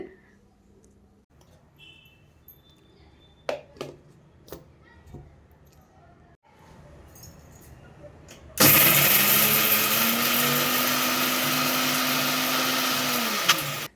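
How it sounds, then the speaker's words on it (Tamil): A kitchen mixer grinder whirs loudly and steadily for several seconds grinding capsicum chutney, after some quieter clicks and handling noises, then cuts off. "ஃபஸ்ட்டு நான் வந்து கொரப்பாக அரைச்சி எடுத்துக்கிட்டேன் மிக்ஸி ஜாரில் போட்டுட்டு"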